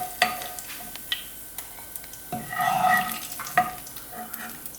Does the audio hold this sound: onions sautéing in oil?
yes